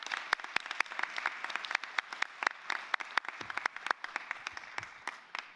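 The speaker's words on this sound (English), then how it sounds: "Let me ask you all to give everybody a big round of applause as you go on to the rest of your afternoon." A conference audience gives thin, scattered applause, a sparse crowd of individual sharp claps rather than a dense roar, moderately distant and continuing throughout.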